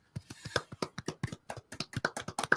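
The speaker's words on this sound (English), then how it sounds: "Yeah, but you got to clap if you believe in Dave." Rapid, irregular hand claps or taps from a small group, close and sharp, bursting in an uneven rhythm for a couple of seconds with no voices over them.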